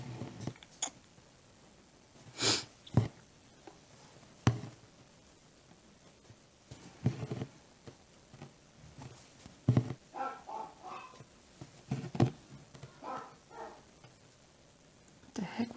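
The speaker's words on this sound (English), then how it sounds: "Dogs are making weird noises." Dogs in a house make odd, irregular noises, with scattered short thumps and yelps spread across a quiet indoor background.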